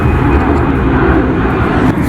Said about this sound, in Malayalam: ഫ്ലൈറ്റ് പോന്നു.